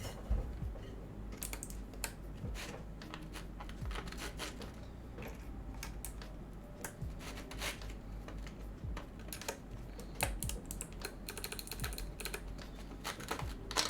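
Steady, fast typing on a KBDFANS Tofu60 mechanical keyboard with an acrylic case and box-shaped keycaps gives a continuous stream of close, deep clacks and thocks for the whole stretch, with no talking.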